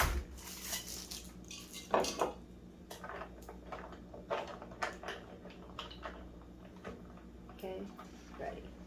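Straw stirring a matcha boba drink with tapioca pearls from an instant kit, producing quick scraping clicks and taps against the cup, close and intermittent, with a voice speaking briefly.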